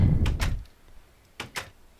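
In the MagicFarm video game, a door opens and closes in two short thuds. Each is a pair of soft clunks, the first over a low rumble and the second alone and fainter.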